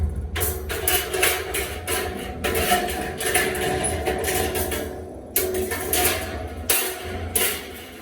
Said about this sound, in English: We're gonna put these grates, the bottom grate back in.